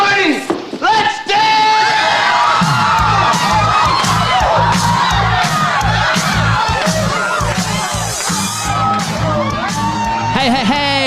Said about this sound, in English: that sound means it's time for the celebrations of the show